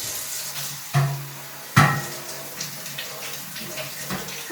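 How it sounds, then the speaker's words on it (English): Running tap water splashes over fresh vegetables in a kitchen strainer, a steady hiss broken by two sharp clattering bursts as the strainer and produce are moved under the stream. "you always want to rinse them off in a strainer with cool running water"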